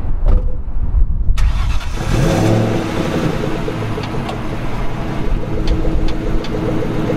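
A 1997 Ford Mustang Cobra V8 cranks briefly, catches with a loud bark, then settles into a deep, slightly lumpy idle that stays close and steady to the end.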